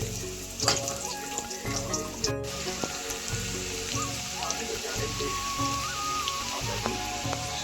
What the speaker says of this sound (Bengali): এই যে তেল দিলাম রসুনের মধ্যে